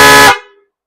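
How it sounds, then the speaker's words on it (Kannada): One loud, brassy honk from a chrome Wintone snail car horn, a universal-fit 12V type, lasts about a third of a second before a quick ringing fade, close and isolated. "ವಿಂಟೋನ್ ಇನ್ ಕ್ರೋಮ್ ವರ್ಷನ್,"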